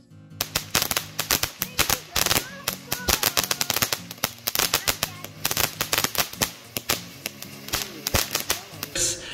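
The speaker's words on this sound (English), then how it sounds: "us lighting off some fireworks" Fireworks and firecrackers set off outdoors at a Fourth of July family gathering, a rapid irregular string of loud sharp pops and crackles with dense bursts throughout, no talking.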